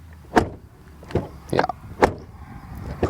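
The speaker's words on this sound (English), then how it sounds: "Then the door closing sound test." Four separate solid thumps of a Volkswagen Passat Alltrack door being shut, spaced at uneven intervals across a few seconds, each a short broadband impact over a quiet background.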